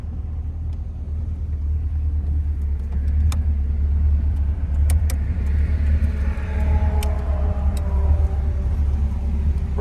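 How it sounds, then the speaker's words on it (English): A 1972 Oldsmobile 442 Convertible rumbles along on a test drive, its engine a loud, steady low drone close by that swells slightly as it pulls away, with a few faint clicks and no talking. "we're going to take this 1972 Oldsmobile 442 Convertible for a test drive"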